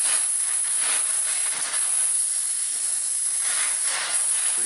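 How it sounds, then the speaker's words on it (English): A small brazing torch flame heats a rusted part on a Ford F150 transfer case with a loud, steady, close hiss that surges slightly in places. "obviously we're just using a little brazing tip, so we just want to try to break that bond of the rust"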